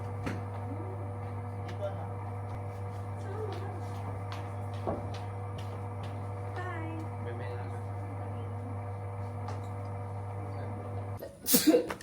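A single sharp sneeze bursts out near the end after a long stretch of steady low humming background noise by a hotel pool in Bali, Indonesia.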